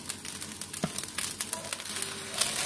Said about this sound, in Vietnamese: Bây giờ là mình cho rau củ quả vào mình xào luôn nhá.